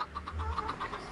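Minecraft chickens cluck in the Nether, a series of soft, evenly spaced clucks that sit faintly under low background noise.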